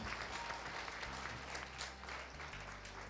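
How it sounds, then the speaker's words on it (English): Audience applause at a media recognition award ceremony, a steady wash of many hands clapping at low level for about three seconds, with a low hum underneath. "please help me clap for these people"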